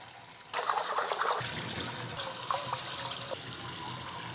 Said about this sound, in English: You want to rinse your rice solely for the reason that you want to remove any like maybe dirt or impurities that might be in the rice